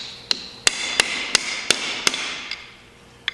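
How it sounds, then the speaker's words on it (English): A steel pry bar works loose a front end part on a Massey Ferguson 4607M tractor with a catastrophic front end failure, giving about seven sharp, evenly spaced metallic knocks close by over a faint background hiss, with no talking. "Take our pry bar."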